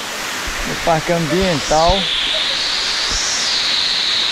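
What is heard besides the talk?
waterfall at Bica Grande, Natuba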